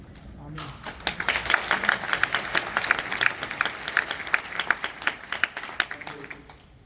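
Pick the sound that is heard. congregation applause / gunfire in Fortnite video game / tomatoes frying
congregation applause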